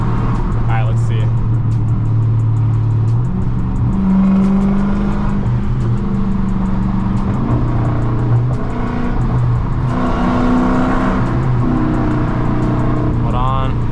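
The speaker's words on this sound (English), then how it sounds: "my exhaust is so loud. It just overrides the supercharger whine." A 1000 hp supercharged Dodge Hellcat with a loud exhaust accelerating hard, a deep, steady engine roar heard from inside the car with gear changes, the exhaust drowning out the supercharger whine.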